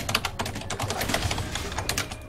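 Fast, hard clattering on a computer keyboard, dense overlapping keystrokes hammered close to the microphone without pause.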